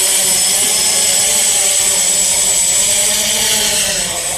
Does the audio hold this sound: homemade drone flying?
yes